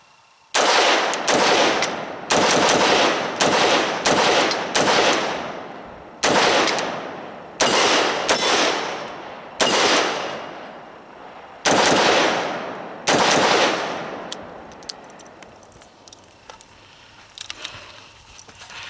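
A Smith & Wesson M&P tactical AR-15 rifle fires loud, close shots, single and in quick pairs, about a dozen in all. Each crack rings out with a decaying echo before the next.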